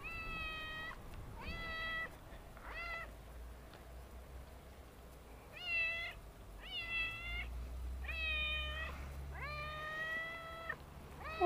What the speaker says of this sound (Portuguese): Tá miando ali bastante.